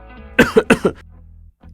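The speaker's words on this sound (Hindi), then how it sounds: "देखिए ना आंटी, कितनी खांसी भी हो रही है" A short burst of four harsh, chesty coughs in quick succession, close by, from a person with a cold and swollen tonsils, followed by quiet.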